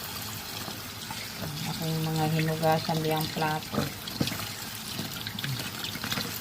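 Cold water pours from a tap over eggplant seeds, a steady trickle building into a brief, louder splashing pour while a person talks nearby.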